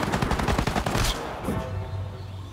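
A mounted machine gun in the World War II game Partisans 1941 fires a fast, continuous rattling burst, loud and close, then stops abruptly and leaves a lingering low hum.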